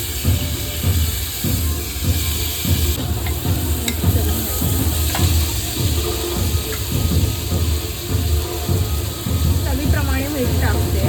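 Chopped tomato sizzling in hot tempering oil, a constant frying hiss with a rhythmic thumping undertone, while a person talks over it.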